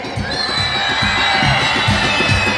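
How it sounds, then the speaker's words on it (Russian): A crowd of children shouts together on cue at a Navruz celebration, a loud, sustained mass of overlapping voices and cheering with no pauses. "Ну-ка, дети, ну-ка давайте все вместе покричим"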